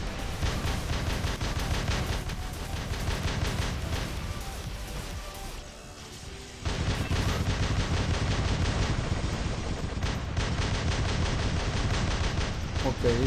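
Machine guns firing continuously in the mech shooter War Robots, a dense, loud rattling stream that dips briefly in the middle before resuming at full force.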